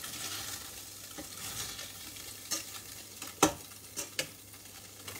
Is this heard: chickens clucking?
no